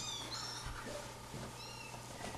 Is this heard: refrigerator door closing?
no